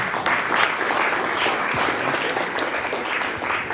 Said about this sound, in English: can we give a big round of applause for John on the Wiggle Walk?